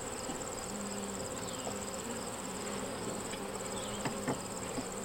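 Honeybees in an opened hive frame make a steady, even hum that stays faint and continuous throughout, with a few tiny knocks near the end.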